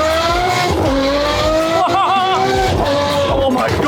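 A Ferrari sports car roaring loudly up close, engine pitch rising and falling as it revs and shifts, with a brief squeal, continuous and dense throughout.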